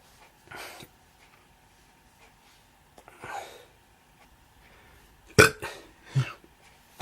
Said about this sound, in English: Fucking burps.